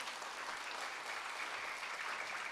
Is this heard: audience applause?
yes